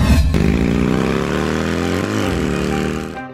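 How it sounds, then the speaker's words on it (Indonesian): A motorcycle engine in an Indonesian horror cartoon drones loud and close in a steady, buzzing run, its pitch dipping briefly before the sound cuts off abruptly. "Itu motor siapa sih?"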